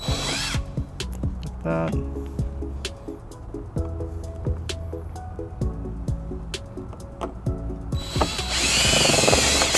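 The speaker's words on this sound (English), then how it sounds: "All right, we got our holes drilled." A power drill drills holes in a Kia Soul for trailer wiring, with short whirring bursts and clicks, then a loud sustained drilling run at the end; a voice speaks briefly.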